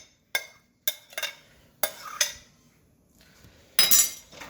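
Stirring bran muffin batter in a bowl, a series of sharp clinks and scrapes from a utensil against the bowl, irregular and close, with quiet gaps between strokes.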